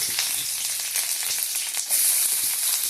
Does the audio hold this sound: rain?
no